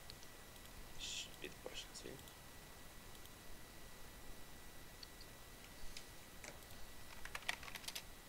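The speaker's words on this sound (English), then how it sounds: "I was typing quickly." Quick typing on a computer keyboard: quiet, scattered clicks in short bursts over a low background hiss, faint and close.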